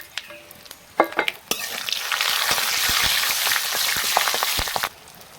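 Bay leaf with dried and green chillies dropped into hot oil in a pan for a mung dal dish: a few sharp clicks, then a loud steady sizzle and crackle lasting several seconds before cutting off.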